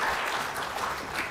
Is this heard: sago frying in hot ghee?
no